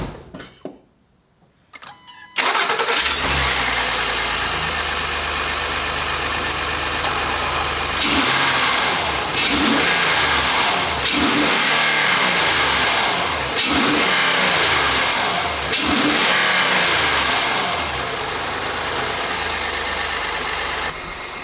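Honda Ridgeline V6 with a ported MDX intake manifold and intake spacers cranks and fires after a quiet moment, then settles into a loud, steady idle with a few brief revs, close by and with no talk.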